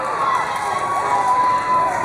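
An audience at a Sonic Boom 2013 fan Q&A session cheers and shouts loudly and without a break, a dense crowd roar that fills the whole moment.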